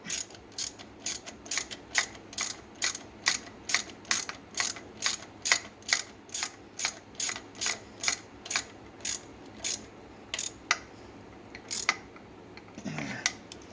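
Ratchet wrench snugging up the starter bolts on an Arctic Cat 375 ATV, a long steady series of close, evenly spaced clicks, with a brief rustle at the end.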